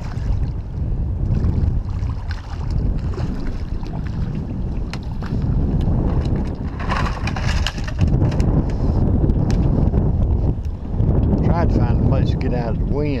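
Strong, steady wind blows across Lake Norman from a fishing boat drifting slowly, roaring and buffeting the microphone almost nonstop, with swirling gusts and splashing water.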